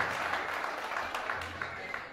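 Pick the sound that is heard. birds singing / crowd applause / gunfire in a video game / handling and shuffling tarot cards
crowd applause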